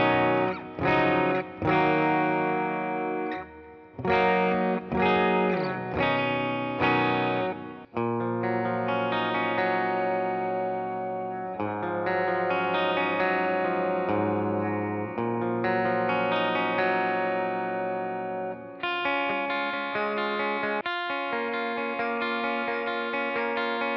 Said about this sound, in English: We'll check out the plate reverb.